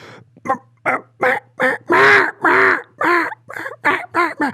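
A human voice imitates a hen mallard duck's quacking: about a dozen loud, close, nasal quacks in a rapid series, the longest and strongest near the middle before they shorten toward the end, with no other talk.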